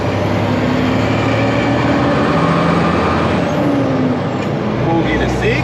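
A truck engine pulls hard after a gear change, a loud, steady low drone with a rising whine. A voice runs under it, and brief hissing bursts come near the end.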